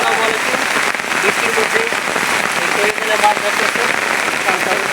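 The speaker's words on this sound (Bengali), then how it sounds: "এই দেখেন অনেক বৃষ্টি নামতেছে" Heavy monsoon rain pours down steadily over a village wetland, a dense, loud hiss of drops hitting surfaces that continues without a break throughout.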